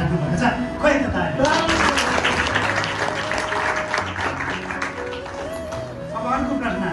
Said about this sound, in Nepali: खोइ त ताली